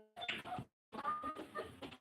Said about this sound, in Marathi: कोणती कोंबडी कुरकुर करत आहे तिला संध्याकाळी